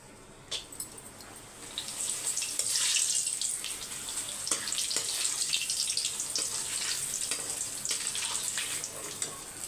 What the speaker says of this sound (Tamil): அப்பளத்தை வறுத்துடலாம்